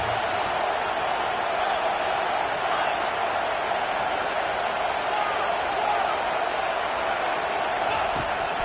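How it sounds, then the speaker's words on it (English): A football stadium crowd roars steadily on a third down, a dense, loud, sustained wash of cheering noise that holds at an even level throughout without letting up. "Decibels rising as the crowd gets behind this defense on 3rd down."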